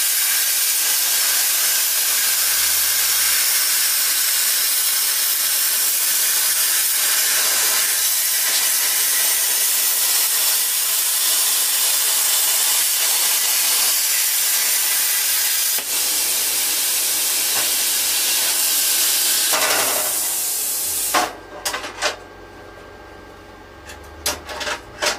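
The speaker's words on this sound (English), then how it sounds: "I've got this circle cutting guide kit set up" Plasma cutter guided along a circle-cutting kit slices through a sheet metal panel, giving a loud, continuous harsh hiss for about twenty seconds before cutting off, followed by a few sharp clicks and pops.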